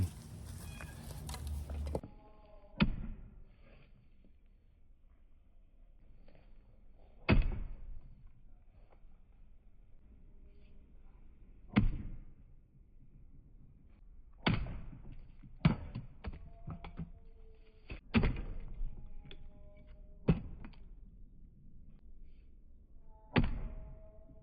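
A budget SKD-11 steel knife is thrown repeatedly at a target, landing as sharp separate thunks spaced several seconds apart with some quicker double impacts and quiet gaps between throws.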